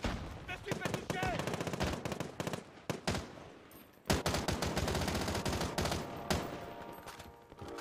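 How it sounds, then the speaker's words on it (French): Sustained automatic gunfire in Call of Duty: Warzone, dense rapid bursts of shots close and loud, with a short pause before another volley, a voice speaking faintly underneath. "Je me fais tirer dessus."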